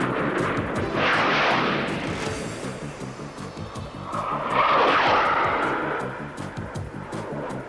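Low-flying Jaguar jet aircraft roaring past, a loud, dense rushing jet noise that surges twice as the aircraft pass close by, with a rapid pulsing rumble underneath throughout.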